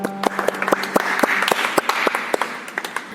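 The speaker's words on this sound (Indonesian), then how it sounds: "Tepuk tangan buat adik-adik." Children and adults at a Sunday school worship service applaud the children after a song, a short burst of lively, uneven clapping with distinct sharp claps near the listener and a faint lingering tone underneath.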